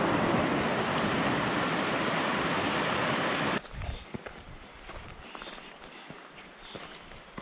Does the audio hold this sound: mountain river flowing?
yes